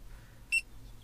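A single short electronic beep from an electromagnetic radiation meter, used while testing a 2019 Hyundai Kona electric car, sounds once near the middle, clear over a quiet low hum.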